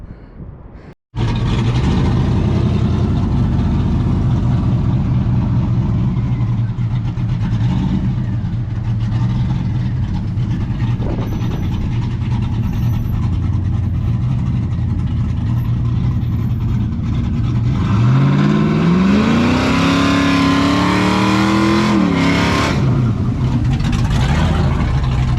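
A 6.0 V8 swapped into an OBS-era Sierra pickup truck rumbles loudly and steadily, then near the end revs up in rising sweeps before dropping back, close and dominant.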